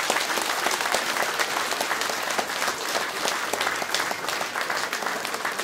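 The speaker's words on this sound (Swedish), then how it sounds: "En applåd ska de ha." Sustained audience applause fills the hall for two young musicians, a steady dense patter of many hands at moderate distance with no talking over it.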